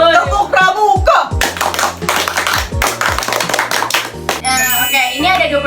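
Scout-style rhythmic hand clapping (tepuk pramuka) rings out loud and close in a quick patterned sequence of sharp claps, with voices chanting along between the clap bursts.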